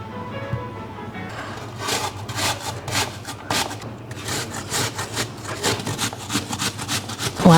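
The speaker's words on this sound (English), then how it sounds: "Now I need to peel and grate 2 apples." Two peeled apples being grated on a grater in a home kitchen, giving a loud, steady run of rhythmic rasping strokes with no talk.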